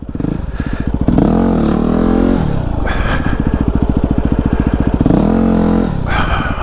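A WR250R dirt bike is revved hard for wheelie practice at an off-road vehicle park, its single-cylinder engine rising and dropping in repeated bursts, close and loud.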